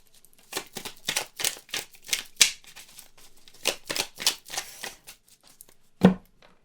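Tarot cards are shuffled and drawn in a quiet room, a string of short papery riffles and slaps in irregular bursts, ending with one firmer card set down; no talking.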